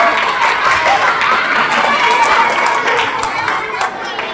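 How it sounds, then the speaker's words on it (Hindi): Children at a Teacher's Day school event clap together, a dense, continuous patter of many small hands at close range with crowd murmur mixed in. "ताली बजाओ।"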